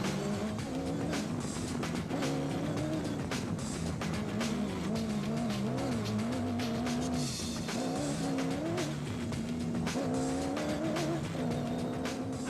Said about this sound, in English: Evan Hutchison and Achim Bergman were blasting their way through the field in the Motorrad Revo 1 4x4